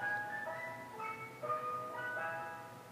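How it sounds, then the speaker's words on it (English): Ice cream truck music plays continuously as a tinkling, chime-like melody of bright repeating notes, steady and moderately distant with a low background hum beneath it. "I'll leave you with this lovely ice cream truck music that's literally has just been playing this entire time we've been talking"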